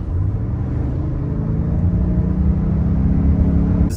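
A 2024 Toyota Grand Highlander accelerating hard, heard from inside as a steady, loud engine drone and road rumble that holds evenly throughout with no speech.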